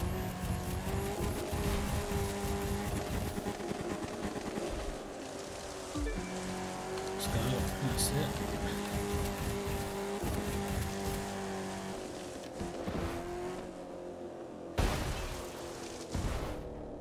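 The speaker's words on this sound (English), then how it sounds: "It's like it was drifting along the track." A video-game race car drifts along the track at racing speed, its engine holding a sustained, loud whine that shifts pitch as it slides through corners, with bursts of tire scrub and no talk.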